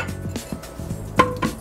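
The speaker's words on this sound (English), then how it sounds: "Now we're going to pour the contents of this into an old-fashioned glass" Bourbon drink poured from a shaker tin into an old-fashioned glass, heard as a few light clinks and taps of metal on glass with a soft pour between, close and fairly quiet.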